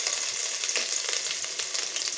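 Chopped ginger frying in heated oil in a pan for hotel-style egg fried rice, giving a steady, close crackling sizzle with no voices.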